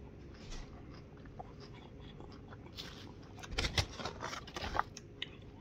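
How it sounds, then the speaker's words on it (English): Someone bites into a KFC chicken sandwich with extra crunch and chews it close to the microphone, giving a burst of crisp crunching and wet chewing after a quiet stretch. "I'm gonna take another bite."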